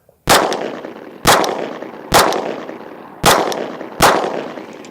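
A pistol fitted with a red dot sight fires five sharp, loud shots at a target, evenly spaced about a second apart, each crack followed by a short ringing decay outdoors.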